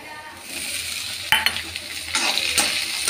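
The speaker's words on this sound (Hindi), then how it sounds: "प्याज को हम थोड़ा पकाएंगे।" Onions fry with ginger and garlic in a pan for shahi paneer, giving a loud, close sizzle with scraping stirs and brief clatters of a utensil against the pan.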